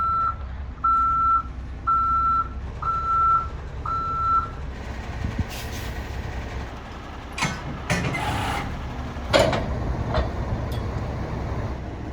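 A delivery truck backs up with roofing shingles, its reverse alarm giving five evenly spaced beeps over a low engine idle, then clanks and knocks as the load shifts and settles.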